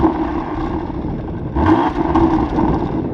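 A 2024 Porsche Panamera 4 with dual exhaust tips rumbles steadily from outside, a low idling drone that briefly rises with a light blip of the throttle midway before settling back.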